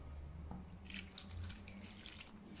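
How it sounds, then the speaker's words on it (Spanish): Water runs steadily from a kitchen tap, poured in while preparing pork loin cooked in lard, a continuous close splashing stream with a few brief clinks, and no talking. "Venga, añadimos el agua"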